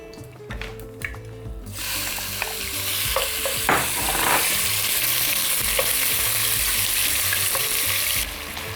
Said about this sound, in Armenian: Եվ տապակում ենք